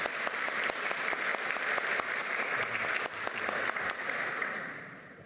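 Steady, dense audience applause fills a government palace medal ceremony honoring police officers with the Defender of Democracy decoration, sustained at an even level before tapering slightly near the end, with no talk over it.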